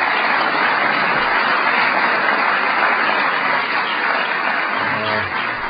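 Sustained applause from a large audience at a White House event honoring NASCAR Sprint Cup drivers, a dense, steady wash of clapping that fills the whole stretch without a break.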